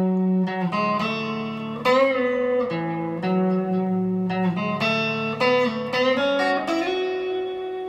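A guitar picks out an intro riff slowly, with clear individual notes and bends in a steady, unhurried phrase, heard alone without any voices.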